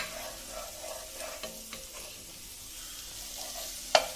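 Garlic being stirred in a pan over gentle sizzling while pumpkin soup is made, with soft scraping strokes and a sharp clink near the end; no talk.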